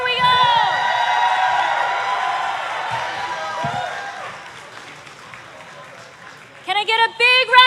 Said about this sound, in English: Can I get a big round of applause for our kids category as they bring themselves up?